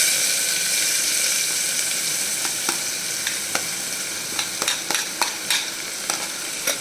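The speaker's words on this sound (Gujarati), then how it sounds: "પહેલાં હું એની અંદર ડુંગળી એડ કરીશ" Chopped onion sizzles steadily in hot tempering oil for mixed vegetable khichdi, a continuous bright frying hiss with a few sharp spoon taps and stirring clicks toward the end.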